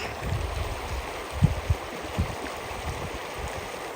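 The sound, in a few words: creek water flowing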